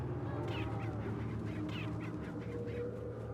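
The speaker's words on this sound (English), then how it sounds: "Check out these birds, by the way." Birds in Resident Evil 4 give a few short, harsh cawing calls over a steady low background hum, fairly faint and spread across a few seconds.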